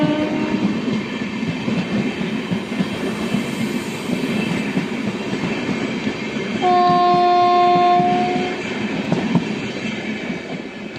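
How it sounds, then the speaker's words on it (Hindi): Local passenger train pulling away on the Rajkot–Veraval line in Gujarat, a steady loud rumble of rolling carriages with a sustained horn blast midway and faint wheel squeal, no voices. "हवे लोकल ही उपड़ी गई है"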